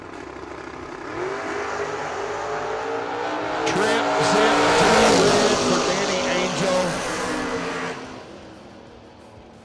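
Drag racing cars, including a Mustang, launching at a racing event; engines rev and roar past with tire squeal, swelling loud mid-clip then fading, with an announcer talking over the action.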